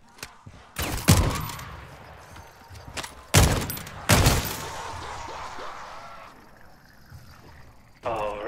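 Gunfire in Call of Duty Modern Warfare III Zombies, with several loud, sharp bursts of shots and booming impacts spread across the clip over a rumbling game backdrop while people talk.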